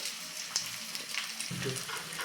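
Chopped onion cooks in a pan for paneer butter masala, giving a steady, moderate sizzle and crackle that runs through the whole stretch with a few small clicks of stirring.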